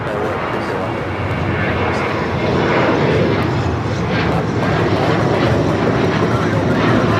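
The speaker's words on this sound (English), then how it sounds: "Alaska Airlines 585 taking off to Seattle on the 737-800." An Alaska Airlines Boeing 737-800 takes off from LAX, its jet engines roaring loud and steady throughout, with brief talk over the noise.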